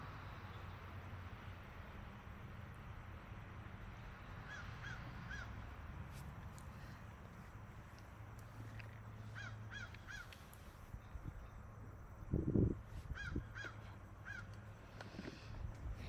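Crows cawing outdoors in several bursts of two or three harsh calls, fairly distant over faint background noise, with a brief louder close rustle partway through.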